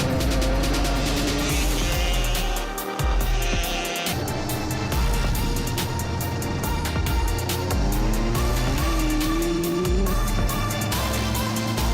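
Junkyard motorcycles ridden with the throttle held open give a loud, continuous engine drone with wavering revs, steady throughout with no talk.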